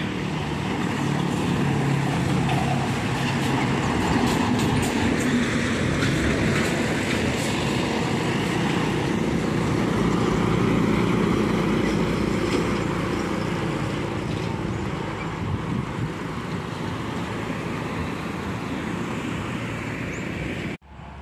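A Mercedes truck in Gudang Garam livery passes on a steep mountain road at Gunung Pegat, a heavy engine rumble and road roar holding steady and loud before cutting off abruptly.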